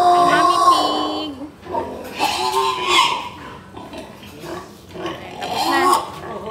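A mother pig on a farm grunts and snorts in a few bursts close to the microphone, mixed with a person talking nearby.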